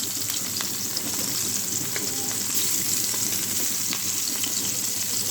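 Tengra fish sizzle in hot oil in a pan, a constant close crackling spatter with a few louder pops and light stirring, no talk.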